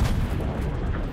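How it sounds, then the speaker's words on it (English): Gunfire erupts in a Fortnite battle, a dense burst of booming shots and rumbling blasts, loud and close, with no talk. "They're shooting at us."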